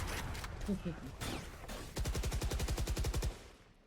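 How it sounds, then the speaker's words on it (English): Rapid bursts of automatic gunfire in a Valorant match, loud and close, a steady rattling volley after a few scattered shots and game sounds. "A lot of gunfire, very close."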